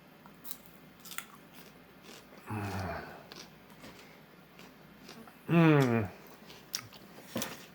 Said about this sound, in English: I'll take this little piece of onion and I'll eat it raw